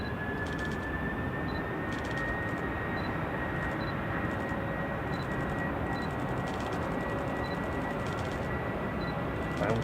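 Emirates Airbus A380 arriving at Manchester Airport, a steady distant rumble of jet engines with a faint high whine throughout and faint periodic ticking beeps; no talking.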